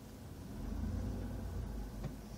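A road vehicle passes with a low engine rumble, building a little and then fading, moderately near and alone.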